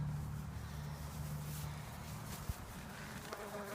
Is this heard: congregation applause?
no